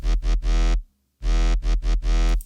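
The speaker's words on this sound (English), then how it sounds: "All right, so just oscillator A sounds like this." A Serum synth's oscillator A plays a buzzy FM bass tone in short rhythmic bursts, three notes, a brief gap, then four more, loud and alone.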